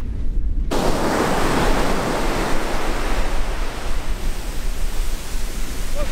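Ocean waves wash onto the beach at Virginia Beach in a steady, loud roar of surf, broadband and continuous with wind buffeting the microphone and no voices.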